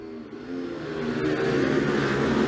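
Onboard engine of an Ohvale MiniGP racing minibike in an FIM MiniGP race, a steady buzzing drone that rises slightly in pitch and loudness as it accelerates, heard alone.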